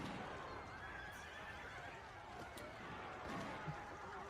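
Horses neighing and whinnying in a video game during a scene of police pulling riders off their mounts, faint whinnies with some hoof clatter under a continuous noisy backdrop.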